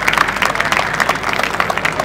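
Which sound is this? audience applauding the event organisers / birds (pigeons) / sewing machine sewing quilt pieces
audience applauding the event organisers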